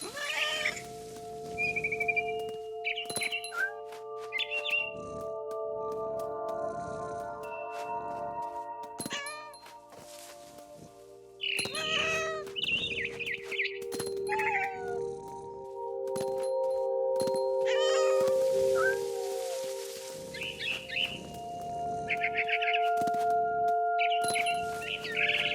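A cat meows and caterwauls in the video game What Remains of Edith Finch, with several distinct meows spread across the clip over a steady game soundtrack and occasional other game effects.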